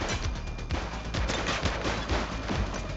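Rapid gunfire in the 1980s police game Precinct, a dense continuous barrage of shots filling the whole stretch, loud and close with no pause.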